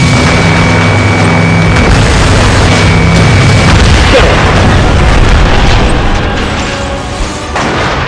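Bombers blowing apart in an Ace Combat Assault Horizon air battle: a loud, dense, continuous roar of booming explosions and crashing debris over sustained engine drone, easing slightly near the end.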